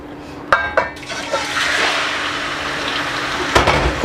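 Beef dropped into hot ghee for beef nihari: a few sharp splashing thumps, then a loud, steady, hissing sizzle that carries on close by.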